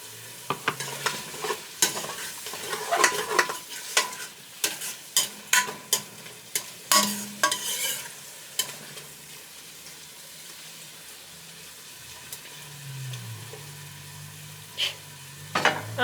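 Butter sizzles softly in a pan on a home stove while tuna and noodles are cooked, under repeated spatula scrapes and clinks that thin out into a quieter hiss, and no one speaks.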